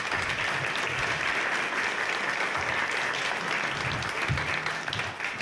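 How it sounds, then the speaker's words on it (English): Steady round of applause from the audience at a Strathroy-Caradoc Ward 1 all-candidates debate, a continuous even wash of many hands clapping at close range without letting up. "Let's give her a round of applause."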